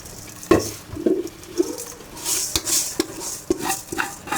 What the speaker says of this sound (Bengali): আমি চালটা দিয়ে একটু নাড়াচাড়া দিয়ে তারপর আমি অন্য কিছু দেবো